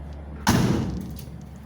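A 1970 Ford F100 cab door, its cab lifted off the frame, gives a single solid metallic thud as someone tries to open it, followed by a short rattling ring that fades out.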